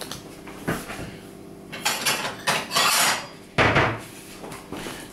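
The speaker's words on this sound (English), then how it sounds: "I'll get a plate out." Plate taken out and set down during an iPhone battery replacement, several close clattering knocks and scrapes of dishware in a quiet room, with a sharp clunk near the end.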